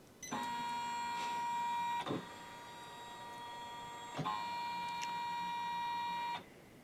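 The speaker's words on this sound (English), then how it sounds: "the hoop will move to the center position" A Janome 550E embroidery machine drives its hoop carriage to the centre position, giving two sustained whirring motor runs, each with a tonal hum. A short pause and a click separate them.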